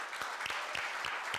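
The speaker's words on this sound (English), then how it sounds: "Can we give this guy a round of applause?" Audience applause for a presenter at a university live-streamed event: a faint, steady wash of many hands clapping, with no voices over it.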